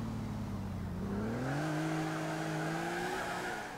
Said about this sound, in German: Hier im James Bond Auto fahren wir los.